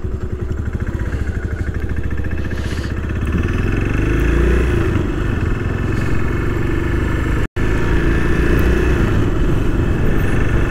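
A motorcycle riding on a road in Holland, its engine droning steadily with a smooth rising hum as it gains speed, heard close and continuous with wind rush.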